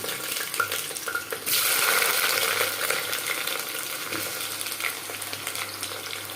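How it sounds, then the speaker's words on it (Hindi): Jackfruit pieces dropped into hot oil set off a loud burst of sizzling that continues as a steady, close frying hiss with occasional pan clinks. "ये देखिए तेल गरम हो गया है। तो अब हम इसमें कटहल को डाल देते हैं।"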